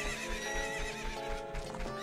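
A horse in The Legend of Zelda: Ocarina of Time gives a loud whinny with layered rising and falling tones over game background sound and a few hoof clops, with no talking heard.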